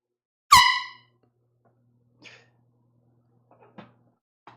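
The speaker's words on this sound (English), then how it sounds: "I'll do a small but sweet air horn. Just a little toot, okay?" One short, loud air horn toot sounds at close range, then fades away, followed by faint clicks and bumps in an otherwise quiet room at a vinyl record sale.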